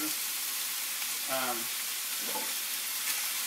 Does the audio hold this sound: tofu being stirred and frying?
yes